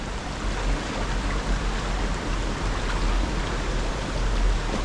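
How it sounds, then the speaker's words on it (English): Waterfalls rumbling upstream in a wild creek gorge in Tasmania, a broad steady roar of rushing water filling the air, no voices. "Starting to get into that gorge, you can hear it rumbling upstream."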